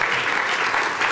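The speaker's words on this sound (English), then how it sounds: "You can clap for that." An audience applauds at a leadership celebration event, with a dense, steady wash of clapping throughout the brief moment.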